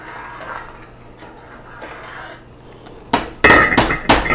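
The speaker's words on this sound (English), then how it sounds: "I'm going to stir it." A utensil stirs corned beef split green pea soup in a metal pot. Quiet bubbling comes first, then loud knocks and clanks against the pot rim near the end.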